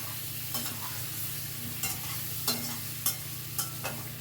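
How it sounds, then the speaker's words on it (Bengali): Potatoes with a little turmeric fry on a high flame in a pan, a steady hiss running throughout while a spatula stirs them continuously, scraping in regular sharp strokes roughly every half second to second. "অনবরত নাড়াচাড়া করে একটু ভাজা ভাজা মতো করে নিচ্ছি"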